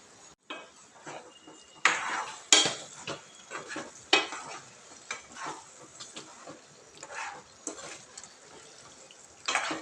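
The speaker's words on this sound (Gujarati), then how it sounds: "હવે તેમાં આપણે બધી ડુંગળી એડ કરી દઈશું અને તેને સારી રીતે હલાવી લઈશું." Onions are stirred into masala in a cooking pot, giving repeated clinks and scrapes of a spoon against metal over a soft sizzle, with irregular bursts of louder clatter throughout.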